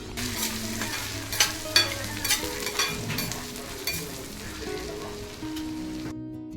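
Onions sautéing in a pan with coriander seeds, black pepper and tamarind, a close, bright sizzle broken by repeated stirring scrapes and clatters, cut off abruptly at the end.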